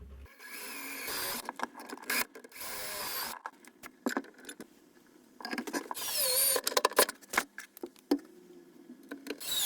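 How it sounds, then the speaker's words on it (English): A drill runs in short, stop-start bursts, drilling screw holes through hinge holes in kitchen cabinet doors, its motor whining up and down between pauses, close by with clicks and handling noise. "So now I can simply drill the spots using the same holes."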